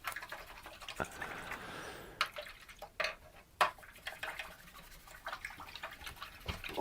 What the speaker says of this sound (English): Washing the brush, a little bit of soap.